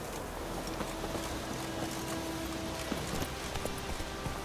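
Roach, the horse in The Witcher 3 video game, gallops in a rhythmic run of hoofbeats, heard under a steady layer of ambient noise and faint tonal music.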